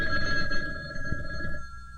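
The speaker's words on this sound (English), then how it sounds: "got a phone call" A telephone bell rings continuously for two seconds in a steady electric trill, moderately loud and unaccompanied by voices.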